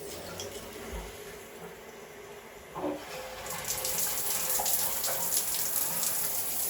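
Water runs from a tap during a home leak repair, a faint steady hiss that swells and brightens partway through as the flow picks up, with no talk.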